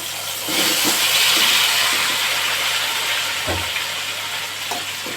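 Stuffed brinjals drop into a hot pan and are stirred. A dense, steamy hiss and sizzle swells at the start and holds steady, with a few soft thuds and scrapes and no talking.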